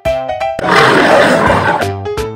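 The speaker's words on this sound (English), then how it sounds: "Lion," A lion gives one loud, rough, sustained roar lasting just over a second, set between short musical notes, with no speech.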